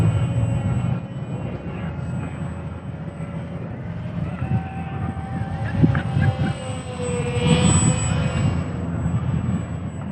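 An ESKY Sparrow beginner RC biplane flies outdoors in wind, its small electric motor and propeller giving a steady whine with a faint rumble that swells slightly as it passes nearer.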